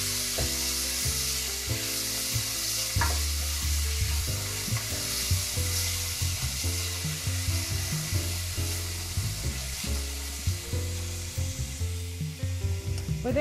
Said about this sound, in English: And then we're going to fry our bacon and add our rosemary.